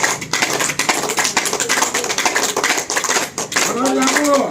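Steady group hand clapping at a yoga gathering for Guru Purnima, a dense, continuous patter of many hands, with a voice speaking briefly near the end.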